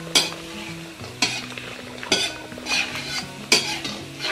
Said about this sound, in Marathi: हे सगळे ड्रायफ्रुट्स आपल्याला हलकासा रंग येईपर्यंत परतून घ्यायचे.